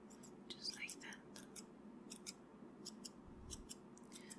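Scissors snip close up in a sequence of crisp, quick cuts spread through a quiet, whispery roleplay, each snip bright and short against a soft hiss.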